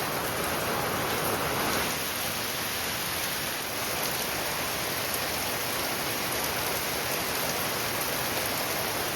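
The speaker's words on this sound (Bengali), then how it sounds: "হঠাৎ মাত্র একদম ঝমঝমিয়ে বৃষ্টি পড়ছে।" Heavy monsoon rain pours down steadily in a rural village setting, a dense, loud, unbroken hiss of downpour with no voices, constant throughout.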